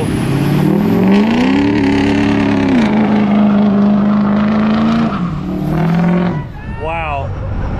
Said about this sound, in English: These guys are about to do a burnout.